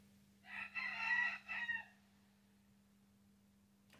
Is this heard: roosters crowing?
yes